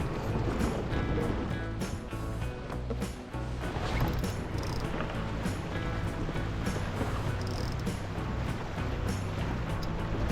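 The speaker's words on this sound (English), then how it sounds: "Right, ready to jibe. 1, 2, 3, jibing." A sailboat jibing on Lake Wakatipu in a strong tailwind, with steady loud rushing of wind and water and some creaking rigging throughout.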